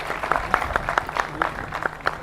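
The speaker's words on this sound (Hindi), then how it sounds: "जोरदार तालियों से स्वागत करिए आपके अपने चहेते" An audience at a Hindi stage play claps to welcome an actor. The clapping is fairly sparse and rhythmic, with distinct sharp claps in quick succession, moderately loud and without talk.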